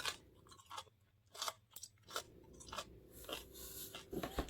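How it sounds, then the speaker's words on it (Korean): Close, quiet crunching and chewing of a pickled radish jangajji seasoned with soy sauce, sugar and sesame oil, heard as irregular crisp bites and chews with no talk. "정말 쫀득쫀득 오독오독 씹는 소리까지 맛있는데요."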